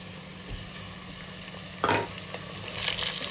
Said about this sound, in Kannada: ಇದೊಂಚೂರು ಹಸಿ ವಾಸನೆ ಹೋಗೋವರೆಗೂ ಫ್ರೈ ಮಾಡ್ಕೊಳ್ಳೋಣ